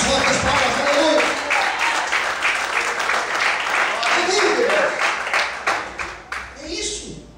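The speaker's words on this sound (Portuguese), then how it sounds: "As fortes palmas, aleluia!" A church congregation claps loudly and steadily throughout, a dense sustained wave of applause that thins and fades toward the end.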